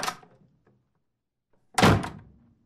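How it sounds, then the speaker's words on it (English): A door thuds shut as someone leaves, a single solid close following a fainter knock a moment earlier, in an otherwise quiet room. "Chuck, please go through the door on your way out"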